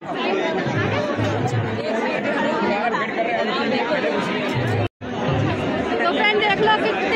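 Dense crowd chatter fills a temple ground during a Janmashtami celebration at an ISKCON temple in Dwarka, a constant babble of many voices, near and loud, with one brief cut in the middle.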